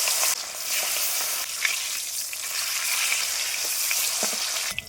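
Fish frying in hot mustard oil in a heated kadai makes a loud, steady sizzle that crackles on without a break and never settles.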